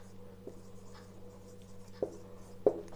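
Marker or chalk writing on a board while working a Class 10 quadratic equations problem, faint scratchy strokes with a couple of sharper taps near the end over a low steady hum.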